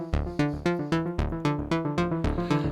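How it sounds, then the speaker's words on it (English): Korg Volca Keys synthesizer playing a plucky stepped sequence with delay turned up, repeating notes at an even pulse with echoes trailing behind each hit, clear and alone. "So I'm going to turn up the delay."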